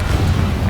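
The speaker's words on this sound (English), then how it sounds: "Confringo." A Confringo fire spell blast in Hogwarts Legacy, heard as a loud, dense, fiery rumble with a booming low end that fills the whole short moment without a break.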